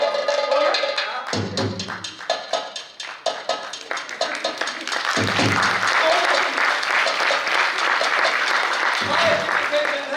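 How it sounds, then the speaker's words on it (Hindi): Audience applause at a staged comic wedding play, dense clapping bursts rising and falling over several seconds, broken by short pauses, with voices mixed in. "ताली बजाइए मेरे लिए।"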